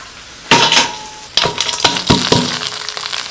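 Scallions, onion and ginger frying in a wok of hot oil with star anise, cinnamon and other whole spices, heard as a loud hiss that bursts in and comes in repeated surges, with clinks of a utensil against the pan.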